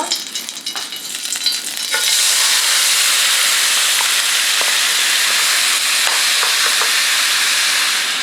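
Cooking oil sizzles loudly in a pot for saury kimchi stew, a faint stirring at first, then a steady, close, continuous frying hiss that holds unbroken to the end.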